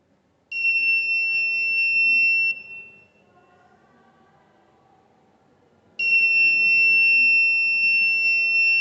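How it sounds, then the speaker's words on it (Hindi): Loud, steady electronic buzzer alarm on infrared-sensor anti-sleep driver glasses, built by an ITI student in Meerut, sounding for about two seconds, dropping to near silence, then starting again and holding, with no talking. "कान के पास जो बजर है वो बजने लगेगा, यानी उनको एक अलार्म मिल जाएगा"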